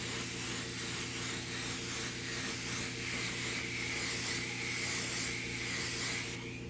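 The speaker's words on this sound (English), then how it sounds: "Let's do another mist coat." A steady hiss of spray paint laying a mist coat on a 1/4-scale model, continuous and close, with a faint rhythmic pulsing and no talking.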